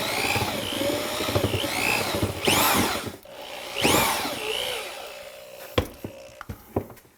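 Power drill running on low speed mixing tile cement for a DIY kitchen remodel, whirring in long steady passes with rising and falling pitch, then stopping for brief knocks and scrapes near the end.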